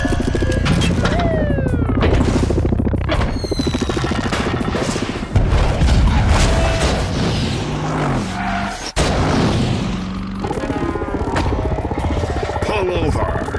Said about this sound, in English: an incomprehensible visual assault of explosions and grinding metal